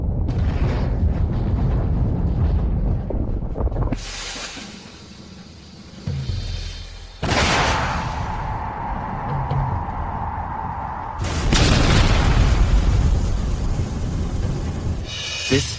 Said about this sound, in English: Airship fleet, ready all aerial bombs. Blow that turtle shell wide open.